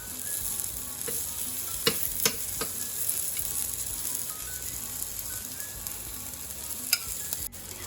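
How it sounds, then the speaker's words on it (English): Onion mixture sizzling and frying in a pan on top of eggplant boats, a steady crackling hiss with a few sharp clinks of a utensil near the middle and end, no talking. "So we are adding the onion mixture on top."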